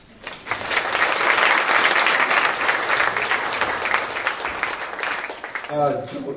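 Audience clapping at a service dog graduation ceremony, steady dense applause filling the room for several seconds before tapering off, with a brief voice at the end.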